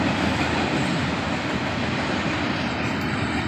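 A CP freight train of metal box cars rolls past close by, a loud, steady rumble and rattle of wheels on rails that fills the whole moment without a break.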